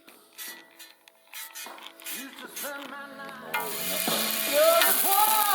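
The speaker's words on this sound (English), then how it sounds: "Schmeeby, can you turn that cooker on, mate?" Potato scallops begin sizzling on a camping cooker by the Blackwood River, starting with scattered clinks and squeaky scraping before a loud, steady frying hiss takes over partway through.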